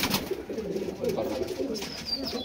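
Teddy pigeons in a loft in Krishnagar, Nadia coo softly and continuously at close range, a low warbling murmur with a faint higher chirp near the end.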